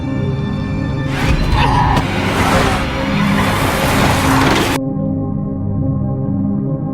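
A car swerves on an empty road at night in a minor accident while dodging a raccoon, loud engine and tire noise surging for several seconds before cutting off into quieter steady rumble.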